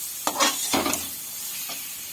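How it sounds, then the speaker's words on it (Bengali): Coriander and cumin powder being stir-fried in a pan for a katla fish curry, a couple of close scraping stirs over a soft steady sizzle, with no voices. "সে ভালোভাবে নেড়ে চেড়ে কষে নিচ্ছে"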